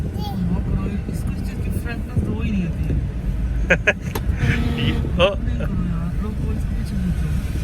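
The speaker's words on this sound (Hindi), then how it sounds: "हसन, आप गाड़ी चला रहे हो?" A car engine hums steadily while driving on a grocery trip, a low continuous drone with wind noise, and an adult and someone talk over it throughout.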